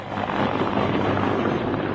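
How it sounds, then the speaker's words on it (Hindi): A Ukrainian army helicopter flies overhead, its rotor thumping in a steady, fast rhythm over a broad engine roar, loud and continuous throughout. "आसमान में उड़ रहा यही वो यूक्रेनी सेना का हेलीकॉप्टर है"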